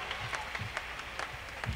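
Live concert crowd at a show in a large coliseum applauding, a brief, fairly faint patter of clapping from a distance with no clear voices.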